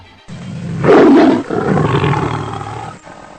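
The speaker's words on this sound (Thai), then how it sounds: "มันเป็นเสียงคำรามของเสือ ไม่ก็สิงโต" A single deep, rumbling big-cat roar swells loudly and then fades into a growling tail, close and unaccompanied.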